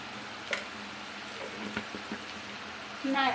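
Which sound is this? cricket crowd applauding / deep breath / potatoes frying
potatoes frying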